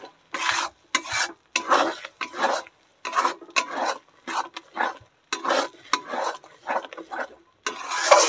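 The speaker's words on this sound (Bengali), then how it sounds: "এবার সুন্দর করে নেড়ে নেব ডিমটা ভালো করে।" Beaten egg stirred in a pan for egg tadka, a run of rhythmic scraping strokes in short bursts with brief pauses between them, close and fairly loud, with no talking.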